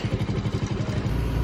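A new scooter's engine runs close by with a rapid, pulsing low rumble and light mechanical clatter, then settles into a steadier drone.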